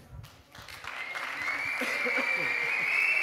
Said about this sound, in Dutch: bij elk applaus wordt er ook gefloten